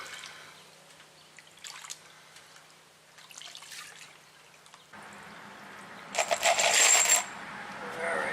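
Small black oxide coated metal brake hardware parts being rinsed, with light metallic clinks and rattles, then a louder burst of pouring, splashing water near the end, no talk.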